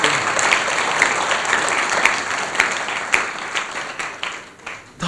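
A congregation applauds during a church sermon, a dense, steady wash of many hands clapping that carries on without a break and thins slightly near the end, with no voices over it.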